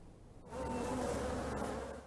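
Honeybees drone steadily around a beekeeper's hives in Nicaragua, a close, continuous buzz that rises after a brief quieter moment and then stays level.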